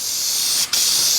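Spray adhesive hisses from an aerosol can in a steady, close, loud burst with a brief break near the end before spraying resumes.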